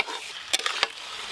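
Chicken and fried potatoes being stir-fried in a pan give a soft, continuous sizzle, with a few sharp scraping clicks from stirring near the middle.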